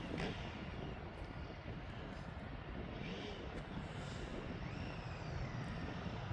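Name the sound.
Embraer Phenom 300 jet departing airport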